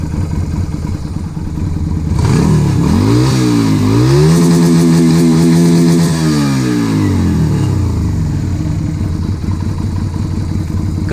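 A Yamaha XV250 motorcycle with a freshly tuned carburetor, rejetted, slide-modded and needle-adjusted, idles loudly, then revs up sharply several times and drops back to idle, close up with no talk.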